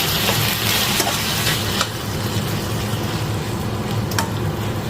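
Onions are stirred in a frying pan over a continuous loud sizzle, with spatula scrapes at intervals and no talking.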